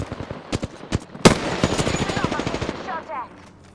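Automatic weapon fire in the video game Apex Legends, a few separate shots and then a sustained rattling burst with one sharp loud crack, fading into trailing game effects toward the end.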